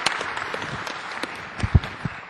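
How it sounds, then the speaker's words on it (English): Audience applause for a presenter at a tech demo on stage, a moderate steady patter of claps with a few sharper louder claps near the end, no talking. "Let's give a round of applause to Mike."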